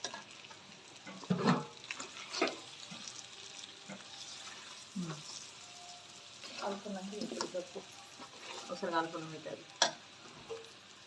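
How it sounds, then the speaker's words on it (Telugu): Coriander powder being stirred into chicken biryani masala in a pan, soft scraping and gentle sizzle under a person talking, with a few clinks of the spoon against the pan. "ఇంకొంచెం ధనియాల పొడి వేసుకోవాలి బాగా కలుపుకోవాలి"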